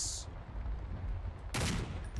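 Gunfire crackles in Garry's Mod during a fight against a Michael Myers nextbot: a loud, sharp burst of shots cuts in near the end over a constant rumbling game background.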